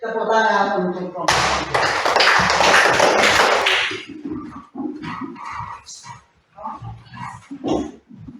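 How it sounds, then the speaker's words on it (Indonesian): A classroom of students breaks into loud, dense applause for a group after its presentation, lasting a few seconds, with a teacher's voice talking before and after. "tepuk tangan untuk kelompok"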